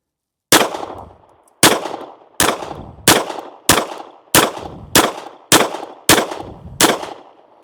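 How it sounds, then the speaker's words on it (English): A S&W Bodyguard 2.0 .380 pistol loaded with Underwood ammunition fires nine sharp, loud shots at a steady pace of about one per second, each shot followed by a short ringing decay. "I have about 9-ish rounds of some Underwood 68 green Extreme Defender. See if it runs."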